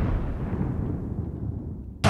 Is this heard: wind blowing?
no